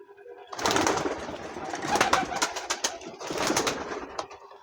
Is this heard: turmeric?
no